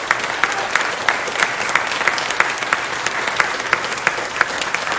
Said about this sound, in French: Merci à nos 4 conférenciers et conférencières que vous pouvez applaudir